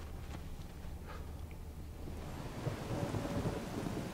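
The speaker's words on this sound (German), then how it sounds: "Ein Sturm." A thunderstorm in The Witcher 3, with a deep continuous rumble of thunder under steady rain that grows slightly louder toward the end and surrounds the listener like open-air weather.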